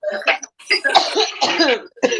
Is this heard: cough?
yes